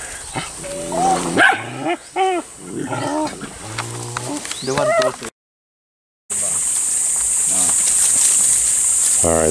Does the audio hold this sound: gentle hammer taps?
no